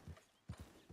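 Horse hooves in the game Red Dead Redemption 2, a few quick thudding clip-clop beats in uneven rhythm, quiet and close, with no talk.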